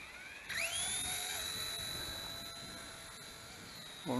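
The motor of an Eachine E110 RC helicopter spins steadily at a high, whining pitch up close, then its tone shifts as the throttle is pulled down, with no talking.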